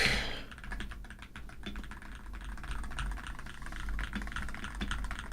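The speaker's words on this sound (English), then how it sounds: "Clickety clack." Continuous close typing on a modded Wooting 60HE mechanical keyboard set on a cloth mouse pad, a dense, even stream of soft clacky keystrokes with no voices.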